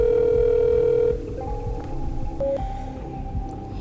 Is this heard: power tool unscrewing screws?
no